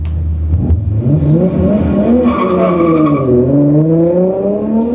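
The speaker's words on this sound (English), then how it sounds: "A Toyota Supra." A Toyota Supra revs and accelerates loudly and close, its engine note climbing in pitch in repeated rising sweeps with a hint of tire squeal, heard alone without talk.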